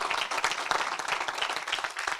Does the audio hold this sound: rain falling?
no